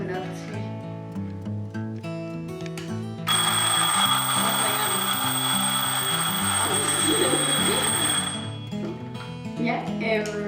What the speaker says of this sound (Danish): På det klokkeslæt, vil man have uret til at ringe på.